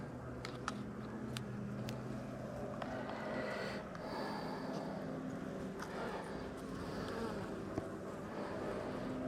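Honey bees buzzing around an open beehive on a warm 71-degree day, a soft continuous hum with scattered clicks and handling taps close by, no speech.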